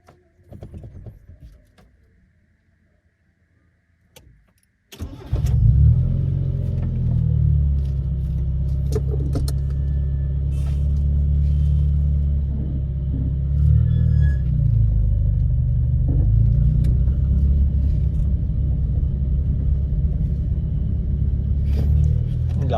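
A Nissan Sentra B14 or B13 engine cranks briefly and catches after a few quiet knocks, then settles into a loud, steady low idle rumble that runs throughout, no voices.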